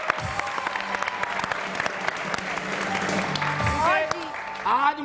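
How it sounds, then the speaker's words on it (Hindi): Studio audience applauding two guests on a television show, a steady sustained wash of clapping throughout, with voices briefly talking over it near the end. "हमारे इन दोनों मेहमानों के लिए ढेर सारी तालियां।"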